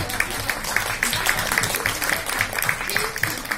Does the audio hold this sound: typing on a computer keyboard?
no